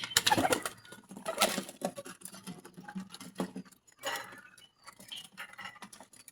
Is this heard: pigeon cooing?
yes